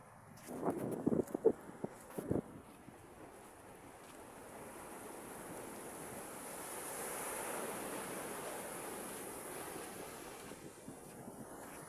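Sea waves wash onto a beach in a soft, distant rolling surge mixed with wind buffeting the microphone, while a few handling knocks come early on.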